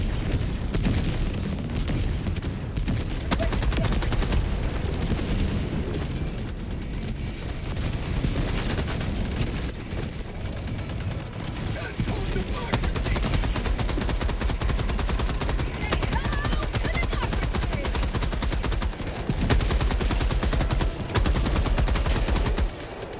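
A turret machine gun in a video game fires in long, dense automatic bursts, with rapid continuous shots and booming impacts filling over twenty seconds at steady, loud intensity.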